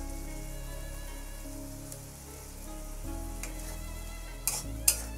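Spice paste with two green chillies stir-fried in a pan for a vegetarian banana-flower dish: a steady, fairly loud sizzle with a few clinks of the spatula, no voices.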